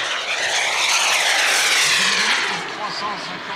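A model airplane engine at an aeromodelling meet climbs from idle to full throttle, a loud rising whine that peaks and then eases as the plane passes, with a voice talking over it.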